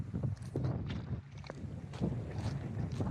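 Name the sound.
strong wind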